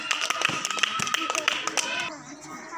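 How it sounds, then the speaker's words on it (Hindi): A class of first-grade children clapping for a classmate acting as teacher, a quick, uneven burst of many small hands close by, fading out after about two seconds. "ताली बजाओ टीचर के लिए।"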